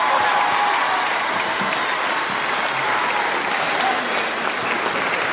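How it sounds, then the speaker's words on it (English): A wrestling crowd applauds a gallant wrestler, a sustained, broad roar of clapping that stays loud and even from start to finish, with no clear voices standing out above it. "I'm going to ask you once again for a round of applause for a gallant wrestler"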